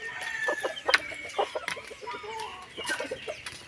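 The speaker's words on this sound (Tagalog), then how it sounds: "Kaninong manok yan, Iya?" A chicken clucks close by in a rural yard, giving a run of short choppy clucks and squawks in uneven bursts, fairly loud, with no one talking.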